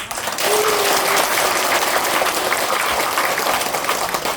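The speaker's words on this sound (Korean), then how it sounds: "이분들 위해서 박수 한번" An audience at a talk bursts into loud, dense applause that holds steady for several seconds, with a faint voice briefly audible early on.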